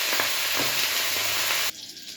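Shredded cabbage hits hot oil tempered with cumin and bay leaf, setting off a loud, dense sizzle with soft crackles that suddenly drops to a quieter hiss near the end.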